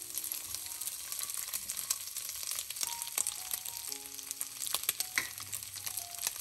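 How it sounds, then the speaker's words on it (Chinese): Pieces of cured fish and ginger slices fry in hot oil in a wok, giving a steady, close sizzle with scattered crackles and pops and occasional sharp spatula taps. "下入姜片，翻炒几下，把鱼块倒入锅中"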